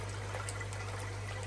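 Water from a Tempest pump pours into a koi fry tank in a steady, soft rushing trickle with a low constant hum beneath it and no voices.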